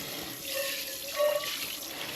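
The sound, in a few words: rinsing with cold water from tap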